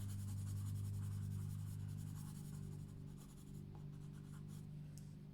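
Colored pencil rubs steadily across paper while blending, giving a soft, continuous scratchy texture up close, with light, quiet strokes and no talking.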